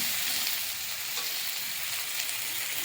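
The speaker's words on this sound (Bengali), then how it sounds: "পেঁয়াজটা হালকা নাড়াচাড়া করে নিতে হবে" Sliced onions sizzle steadily in hot oil in a pan for a Bengali rui fish curry, a constant close hiss with faint stirring scrapes.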